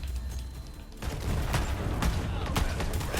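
Gunfire from a sniper-style rifle in Borderlands 3, a quiet stretch giving way to sustained loud shooting with several sharp shot transients over a dense rumbling game soundscape.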